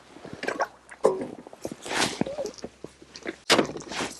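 Pre-soaked fishing bait is squeezed under water in a pot, giving close wet squelches and drips in irregular bursts, some sharp and some soft, with no talking.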